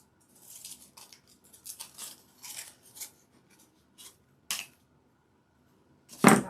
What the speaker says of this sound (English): Cut the leaves off.